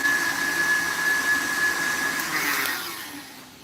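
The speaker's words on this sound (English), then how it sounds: "I'm going to turn up my mixer for just a minute. Get that nice and smooth." An electric mixer whirs steadily while blending peanut butter, a close, continuous motor drone with a high whine that fades slightly toward the end, with no talking.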